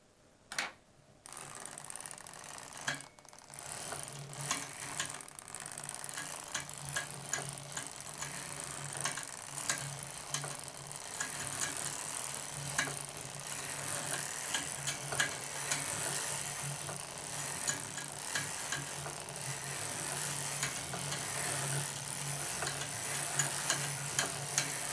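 An Edwardian 1908 circular sock knitting machine knits steadily, giving a continuous close clatter of fine mechanical ticks and ratcheting clicks that stays even and unbroken after a brief start, with no voices.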